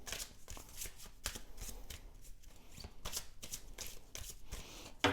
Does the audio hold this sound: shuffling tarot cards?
yes